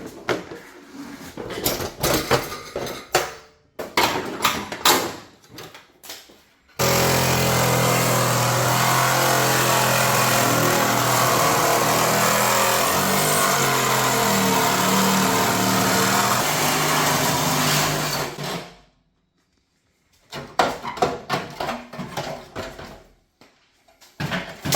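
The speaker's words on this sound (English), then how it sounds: "I always film the cars going up on the lift" Car going up on a vehicle lift in a repair shop, a steady loud mechanical hum lasting about twelve seconds and then cutting off abruptly, with shorter clatters and shop noises before and after.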